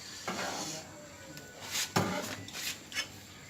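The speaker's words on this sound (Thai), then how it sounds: "ก็คั่วมันนั่นแหละ" Food is stir-fried in a pan, with several scraping strokes of a utensil and a soft sizzle in between, heard up close.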